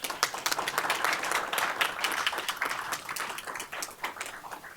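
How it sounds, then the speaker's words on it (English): An audience at a Buncombe County Board of Commissioners meeting gives a round of applause, a dense, moderately loud patter of clapping from many hands that tapers off toward the end. "Can we just give it a round of applause?"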